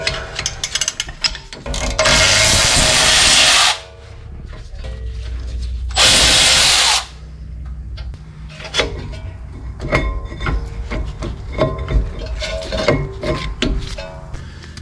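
Rear caliper bracket bolts with 18 mm heads coming off a 2021 Ford Ranger 4x4, with two long loud bursts of power-tool whirring, then rapid ratchet clicks and metal clinks.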